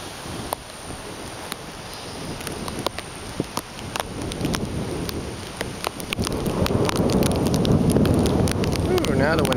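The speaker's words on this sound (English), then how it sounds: "now it's raining pretty good" Heavy rain pours down during Hurricane Isaac in southern Alabama, a dense continuous hiss that swells louder toward the end as gusts drive it harder, with scattered sharp drips and knocks standing out.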